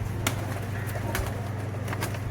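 Racing pigeons coo in a loft in Kannur over a steady low hum, with a few brief, sharper sounds scattered through; no one speaks.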